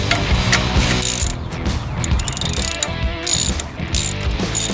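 A ratchet works the pinch bolt on the serpentine belt tensioner of a 1997–2001 Toyota Camry with the 2.2L 5S-FE engine, giving close, continuous mechanical clicking and grinding with sharp, bright bursts and no talking.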